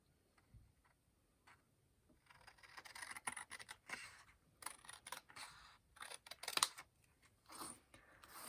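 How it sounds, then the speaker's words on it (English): Scissors snipping through a paper tab on a handmade junk journal, a run of small crisp cuts and scrapes, close but quiet, with no one speaking. "we're going to start by cutting off this last tab"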